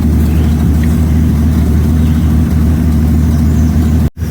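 A 1933 Auburn V12 Boat Tail Speedster, just brought back from decades in a museum, driving slowly out of a shop, its engine a loud, steady, close low rumble throughout, cutting abruptly near the end; no talking.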